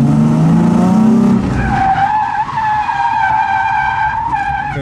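A car skids through a corner in a second-gear handbrake drift on a drift-school course, loud tire squeal holding a steady pitch with engine drone underneath for nearly five seconds.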